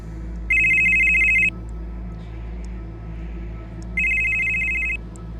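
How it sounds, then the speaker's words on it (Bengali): A telephone rings twice in an audio drama scene, each burst a clear electronic trill about a second long, separated by a pause, over a low steady background hum. "মতিলালের ফোন ঘন ঘন বাজছে"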